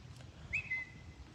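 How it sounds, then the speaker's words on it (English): A person on a city sidewalk gives one short, sharp whistle that rises quickly and then holds a thin, steady note. It is faint against a low background rumble. "Did you just whistle at me"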